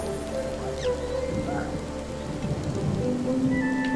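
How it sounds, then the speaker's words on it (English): Rain patters steadily in the video game New Super Lucky's Tale, a continuous soft hiss of drops over a low ambient game hum, with faint chirps and tones drifting through. "No, no, it's just raindrops."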